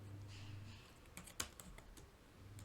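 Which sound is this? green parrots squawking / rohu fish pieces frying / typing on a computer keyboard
typing on a computer keyboard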